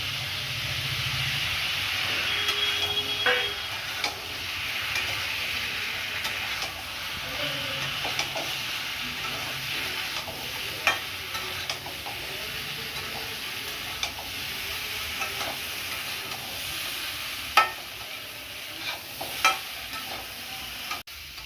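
Sliced ridge gourd stir-fried in oil with turmeric and salt in a kadai, a steady close sizzle and hiss with occasional scrape and clink of the stirring spoon, no talking.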